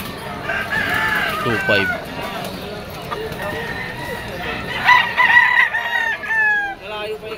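A white-legged pumpkin gamecock stag crows loudly and close, several crow calls rising over steady clucking from other fowl, with someone speaking throughout.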